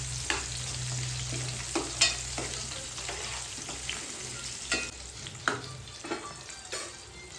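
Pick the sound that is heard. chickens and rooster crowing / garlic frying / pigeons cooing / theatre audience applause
garlic frying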